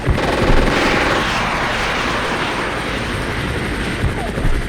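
A Cobra attack helicopter in the war game Armored Brigade 2 makes a loud, steady rotor roar that fills the scene, with faint gunfire under it.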